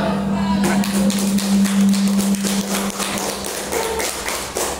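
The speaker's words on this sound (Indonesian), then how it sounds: "Tepuk tangan." Applause at a children's speech contest at an elementary school, a dense, steady patter of many hands clapping for several seconds.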